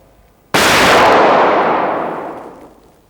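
One loud gunshot blasts suddenly during shooting practice, its harsh report ringing out and slowly fading over a couple of seconds with no other shots following.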